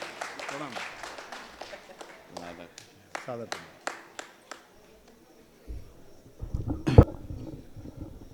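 At a Dussehra fair poetry gathering in Kapasan, listeners greet poet Pandit Sunil Vyas with scattered, fairly sparse clapping, a run of distinct separate claps that thins out, followed by low murmuring and a brief louder thump.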